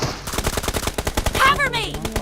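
Rapid automatic gunfire in the PUBG Mobile game, a fast burst of sharp shots followed by a brief pause and a few more, with voices faintly in the background.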